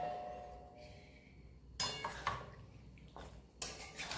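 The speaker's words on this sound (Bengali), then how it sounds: "এবার ঢাকনাটা তুলে এবার প্লেটে ঢালবো।" A lid clatters off a pot, then katla and rui fish chorchori curry is tipped onto a plate. A few distinct metallic knocks and scrapes stand out against a quiet, hushed room.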